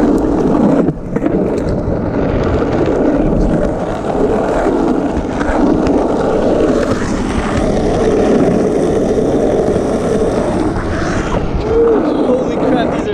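Skateboard with Shark Wheels rolls over a rough, cracked street, making a constant gritty rumble mixed with wind noise as the board picks up speed.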